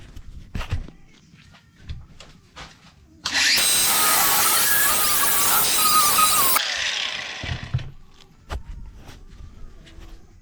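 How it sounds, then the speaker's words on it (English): An angle grinder cutting a metal tube, a loud harsh whine held steady for about three seconds, with clanks and handling knocks before and after. "angle grinders out and get this chopped up"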